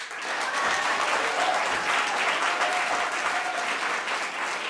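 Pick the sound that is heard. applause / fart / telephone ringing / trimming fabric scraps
applause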